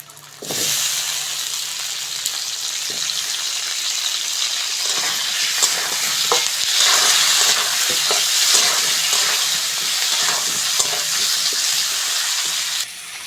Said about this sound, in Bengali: আলুটাকেও পেঁয়াজের সঙ্গে লাল লাল করে ভেজে নেব